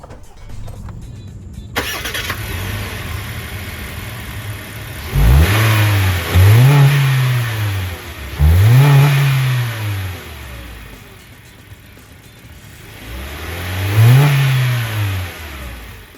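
A manual Daihatsu Terios SUV engine cranks and catches, then revs up in three or four rising, falling bursts over a steady idle, close and loud.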